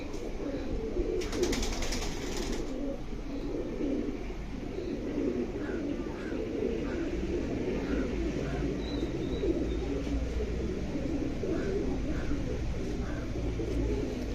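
Karnapura pigeons, a large five-year-old bird among them, cooing softly in a coop in a steady ongoing murmur over a dense, continuous background din, with no clear talk.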